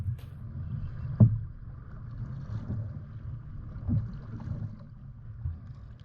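A kayak out on a lake on a windy day: a low wind rumble buffets throughout, with a couple of soft hull or paddle knocks standing out.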